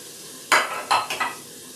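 Vegetables for tomato basil soup sizzle in a pot, with three short bursts of stirring and sizzling over a quiet background, close by and moderately loud.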